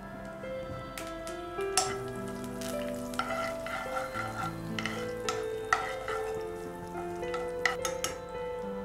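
Curry leaves fry in oil for a chutney, a steady sizzle with scattered crackles and pops under sustained tonal background sounds.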